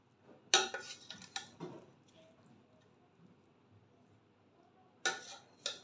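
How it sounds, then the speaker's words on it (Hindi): A spoon scrapes and clanks against a pot while chicken biryani is turned and mixed after opening the dum, a few sharp metallic knocks in two clusters with quiet stirring between, close and faint overall. "अब हम खोलते हैं अपनी बिरयानी का दम। इसको करते हैं जी हम मिक्स।"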